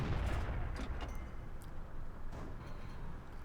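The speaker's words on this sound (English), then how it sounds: "Just doing some blind firing and trying to destroy cover a little bit there" A T26E4 Super Pershing tank gun fires blind at cover during a World of Tanks battle, producing several sharp, booming blasts over a dense, rumbling wash of combat noise.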